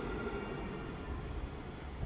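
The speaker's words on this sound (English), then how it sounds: "It's tram number 235." An NET tram, number 235, runs at Basford with a steady rolling rumble of wheels on rail and a faint high squeal, sustained and fairly close.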